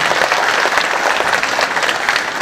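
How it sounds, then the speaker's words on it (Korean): Dense, continuous clapping from an audience at an outdoor public declaration event in Daegu, steady and loud from start to finish with no break. "다시 한 번 더 감사의 박수 부탁드리겠습니다"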